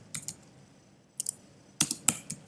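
Computer keyboard typing in short clustered bursts of clicky keystrokes with pauses between them, close and fairly loud over a quiet background.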